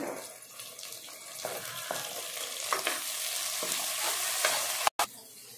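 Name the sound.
frying onions, green chillies and tomato in a pan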